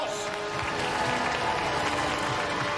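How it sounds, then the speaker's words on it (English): A studio crowd claps steadily after a robot combat team's fight on Robot Wars, a dense, continuous wash of applause at moderate loudness with no pauses. "give them a round of applause"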